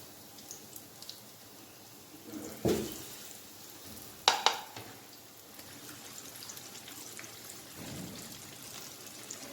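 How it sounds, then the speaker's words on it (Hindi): Onion rings fry in hot oil over a high flame, giving a soft continuous sizzle with a loud burst as they hit the oil and sharper spattering crackles a moment later. "अब इनको जो है फ्राई कर लेते हैं।"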